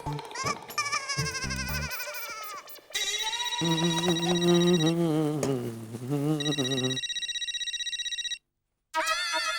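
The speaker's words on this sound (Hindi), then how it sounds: "अरे देवा, जेठालाल का फोन" A phone ringtone plays as a bright electronic melody, repeating loudly and continuously before briefly cutting out and starting again.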